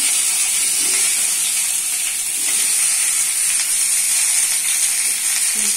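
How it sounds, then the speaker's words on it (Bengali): Pumpkin pieces fry in oil in a wok, giving a loud, continuous close-up sizzle with crackling hiss throughout and no talking. "কুমড়ো লাল করার জন্য কড়া বসিয়ে দিচ্ছি। কুমড়ো ছেড়ে দিচ্ছি।"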